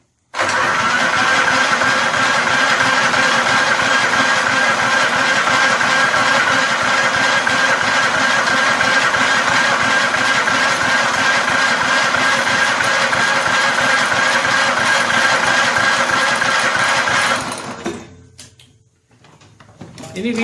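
A vintage Snapper walk-behind mower engine fires on its electric starter and runs steadily at a loud, constant idle for about seventeen seconds before cutting out abruptly.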